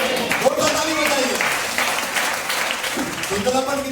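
A congregation claps at a Christian anointing oil church meeting, a sustained, dense wash of applause filling the whole stretch with a voice talking over it.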